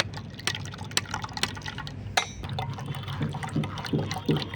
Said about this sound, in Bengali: এখন এটা আমি ছেঁকে নেব এরকম একটা ছাঁকনির সাহায্যে